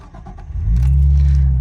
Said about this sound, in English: Let me do a quick engine start.